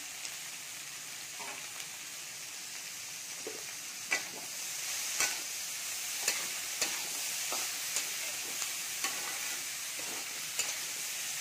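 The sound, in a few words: mixed vegetables being sautéed in a pan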